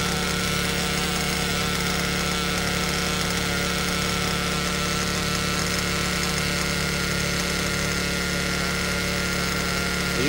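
A Werks B5 nitro RC engine idles steadily while running rich during break-in outdoors on a cool day, giving a loud, constant buzzing drone that holds for the whole stretch with a little background noise.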